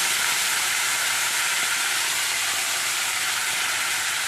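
Spice paste fries in a pan over medium heat for a papaya dalna. A loud, steady sizzle hisses continuously and close up.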